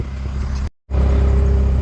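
A vehicle engine rumbles loud and close beside a dirt work site near a filled-in swamp, broken by a brief dropout before the heavy low drone resumes even stronger.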